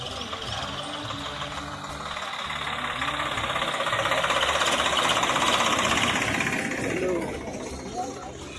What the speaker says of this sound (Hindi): हाँ जरिए ट्रैक्टर निकल जान दो